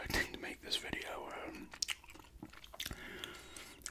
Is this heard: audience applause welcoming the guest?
no